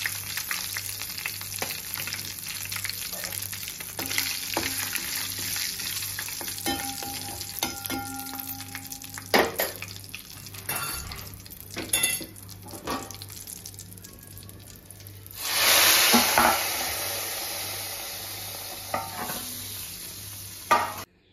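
Curry leaves and a pinch of asafoetida sizzle and fry in hot oil, a continuous crackling hiss with stirring clatter that flares louder near the end.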